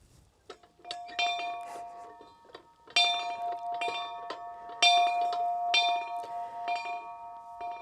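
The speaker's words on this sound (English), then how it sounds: "You know it's a Chinook day when the bell rings by itself." A small metal bell at a native plant nursery rings by itself in a gusty Chinook wind, giving scattered light clinks and a few fuller rings that hang and fade, heard alone in a quiet setting.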